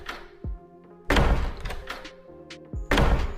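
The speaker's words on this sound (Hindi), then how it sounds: "तभी कोई दरवाजे को खटखटाता है।" Several dull knocks land on a wooden door in short bursts, first a single thump, then a louder cluster, then another pair, each isolated against quiet.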